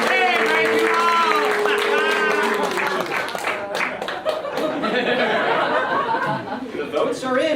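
Audience applause and cheering at a theatre stage show, loud and sustained as a vote for a contestant is gauged by the crowd's noise, with laughter and chatter mixed in.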